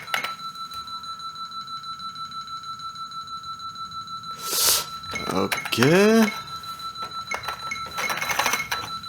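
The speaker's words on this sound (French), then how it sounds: "Bon, un programme pour une alarme." An alarm from an amateur GFA Basic program on an old computer run from a floppy disk: a steady, high electronic tone sounds continuously throughout, with a brief spoken word and a few clinks and clicks partway through.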